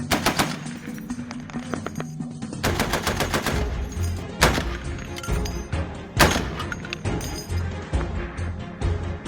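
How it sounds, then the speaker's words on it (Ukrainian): Rapid bursts of automatic gunfire, several loud volleys in quick succession with thumping echoes between them. "Постріл."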